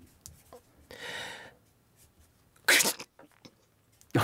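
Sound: person imitating a sneeze

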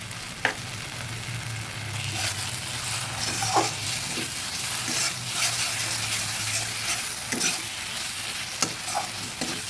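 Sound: stirring spices frying in pan

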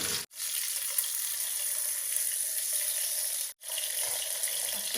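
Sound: pieces of hilsa fish tail frying in a pan

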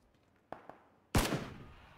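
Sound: gunfire in PUBG video game

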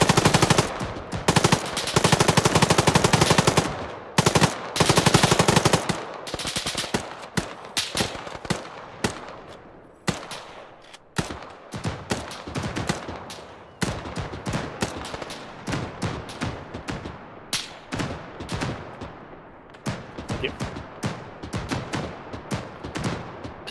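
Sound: autocannon gunfire in a video game

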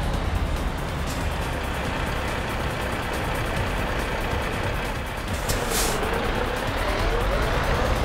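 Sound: truck braking in video game Euro Truck Simulator 2

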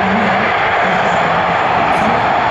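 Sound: Italian Navy NH-90 helicopter flying at air show

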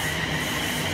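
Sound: London Northwestern Railway class 350 train at Berkhamsted station

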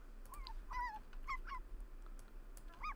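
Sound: dog in The Sims 4 video game

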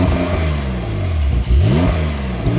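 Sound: Porsche 911 Carrera 4S engine revving in Sport Plus mode

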